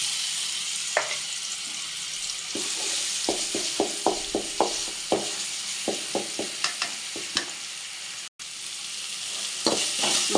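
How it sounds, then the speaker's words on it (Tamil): Ginger stirred and frying in oil for a country chicken curry, sizzling steadily close by while a spoon scrapes and clacks against the pan in a quick run of strokes, with a brief pause near the end. "இஞ்சி பொண்ணு போடுவோம்"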